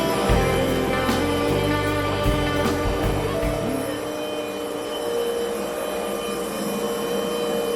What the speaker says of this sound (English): Excuse the noise. The machine is running over there